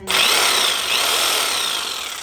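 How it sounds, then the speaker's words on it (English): Corded Ryobi jigsaw cutting a square hole for a roof fan, a loud close buzzing saw with slight rises and dips in pitch as the blade works through the material, with no voices. "So here's I'm gonna use my Ryobi jigsaw."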